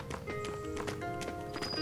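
Faint, rhythmic clip-clopping of a donkey's hooves in the video game Masquerada: Songs and Shadows, a quick run of soft taps over a low game background, with no talking.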